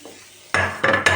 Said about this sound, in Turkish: Yağ kızdı. Şöyle makarnamızı dökelim.